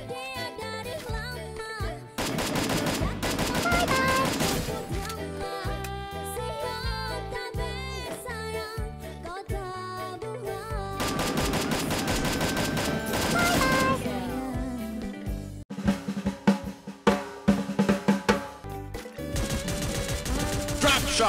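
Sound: gunfire from drop shots in video game Free Fire

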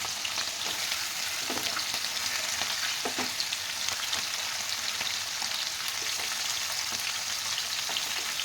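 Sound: chicken frying in oil over medium flame

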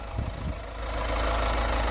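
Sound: Mahindra Thar 4x4 diesel engine idling

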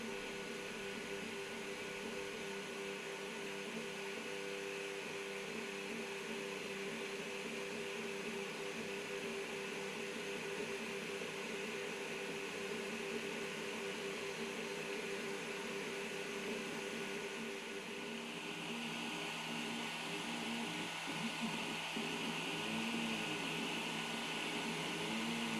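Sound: cooling fan of Alfawise U20 3D printer running

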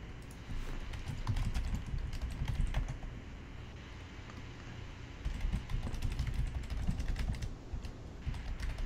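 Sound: typing on a computer keyboard

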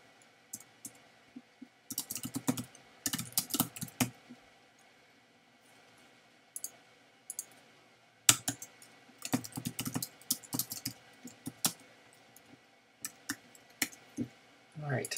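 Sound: typing on a computer keyboard to enter web page code

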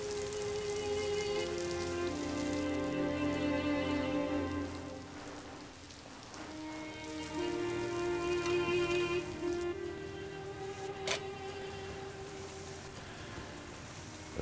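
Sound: rain falling

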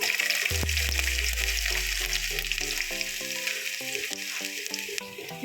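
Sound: chana dal and ginger frying in a pan

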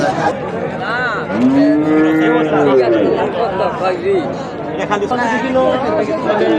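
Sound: cattle at a Qurbani livestock market

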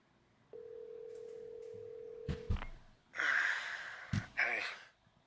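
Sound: phone ringing in video game The Walking Dead

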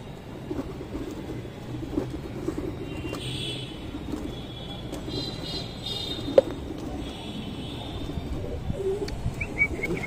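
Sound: pigeons cooing

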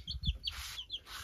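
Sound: chickens clucking

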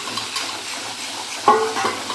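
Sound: spice paste frying and being stirred in a pan

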